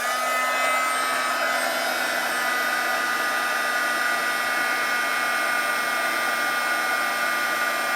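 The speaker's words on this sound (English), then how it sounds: "So I'm holding my heat gun underneath so that none of the wind is blowing that powder away." A heat gun blows a steady, loud whooshing hum throughout, melting embossing powder on inked paper, a constant airflow drone with no pauses and no talk.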